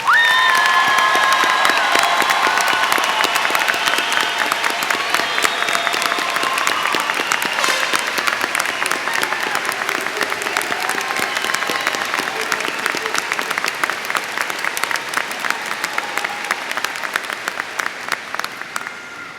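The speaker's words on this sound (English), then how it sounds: "Please join me in giving them a big round of applause" A large crowd at a high school graduation ceremony claps and cheers for honored graduates, loud sustained applause with shouts mixed in, gradually thinning and fading toward the end.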